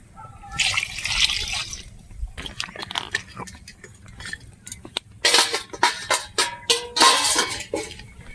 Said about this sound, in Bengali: আর একটু জল দিতে হবে, আমি আর 1 মগ জল দিয়ে দিচ্ছি।